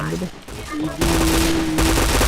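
Gunfire in the video game Point Blank, with dense, loud bursts of rapid shots filling the second half. A voice is heard briefly underneath, alongside tonal game sounds.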